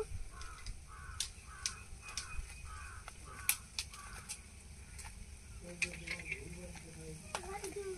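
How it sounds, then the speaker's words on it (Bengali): Spoon scraping seeds out of a halved pointed gourd makes quiet, rhythmic scratchy strokes at close range, a short series of repeated scrapes with crows cawing faintly in the background. "এবার একটা চামচ নিয়েছি, চামচের পেছন দিয়ে দানাগুলো সব বের করে নেব।"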